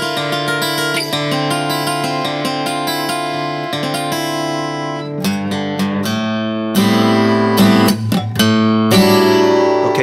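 An acoustic guitar plays a phrase from a song, picked with a thin plastic pick whose bright clicks mark each note, a quick busy run of strums and plucks, loud and close, with no voice.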